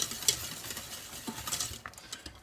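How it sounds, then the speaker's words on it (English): Quiet whisking of white sauce seasoned with nutmeg in a pan for lasagne, a soft continuous patter and scrape of the whisk with light metallic ticks, close and steady, no voices. "I just whisk it, make sure it's all smooth"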